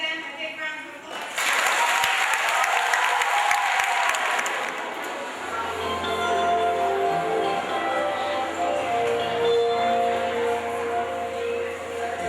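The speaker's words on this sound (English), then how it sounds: "I think we need to give them a big round of applause" Audience applause and cheering for two veterans at a school education event, loud sustained clapping from a crowd lasting throughout, with a low steady hum underneath.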